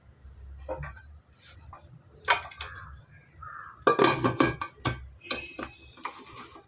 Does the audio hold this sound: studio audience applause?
no